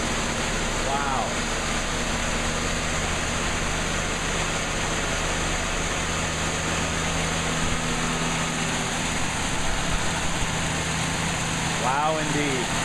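A 1980 Cadillac Seville, left sitting since 1998, idles steadily after a cold start inside a garage, a continuous close rumble with a hissing wash and brief voice sounds near the start and end.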